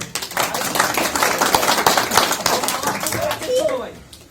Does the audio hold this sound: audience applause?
yes